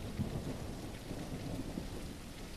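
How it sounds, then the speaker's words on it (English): Video game rain pours steadily with low rumbling thunder rolling underneath, a constant wash of noise with no voices. "here comes the freaking rain again"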